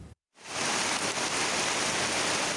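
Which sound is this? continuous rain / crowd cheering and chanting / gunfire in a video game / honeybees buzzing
continuous rain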